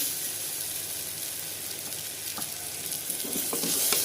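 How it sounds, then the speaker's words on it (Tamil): Steady hissing sizzle of onion frying in hot oil in a pressure cooker, continuous and close, with a few faint clinks near the end. "அதுக்காக தான் குக்கரில் தாளிக்கிறேன்"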